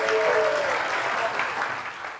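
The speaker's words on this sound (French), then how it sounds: "Applaudissez pour tous les habitants du village," Villagers gathered for a chieftaincy meeting break into applause, a broad crowd of clapping hands that stays dense and lively, then slowly thins toward the end.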